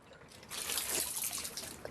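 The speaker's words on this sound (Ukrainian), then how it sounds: "Звичайну воду з-під крану." Ordinary tap water running from a faucet, a soft hissing stream that swells in after a moment and continues steadily, faint and close, no voices.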